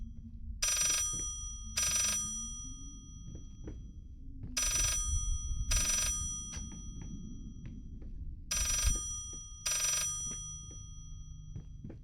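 A telephone rings in the horror game Layers of Fear, sounding in repeated pairs of bright bell bursts with pauses between, over a low droning ambience and occasional soft footsteps or thuds.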